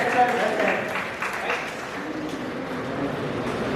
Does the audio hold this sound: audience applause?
yes